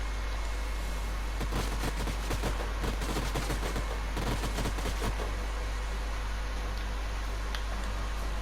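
Gunfire in the strategy video game Age of Wonders: Planetfall, a dense stretch of rapid overlapping shots and bursts over a steady hum, loud and continuous for several seconds before thinning out.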